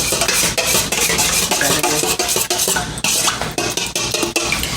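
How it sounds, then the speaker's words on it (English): Yogurt, oil and sauces stirred briskly in a bowl, a steady wet clattering scrape of utensil against the bowl, loud and close, with rapid uneven strokes and no talking. "I'm going to mix these up really well. As well as you can mix up yogurt and oil and sauces."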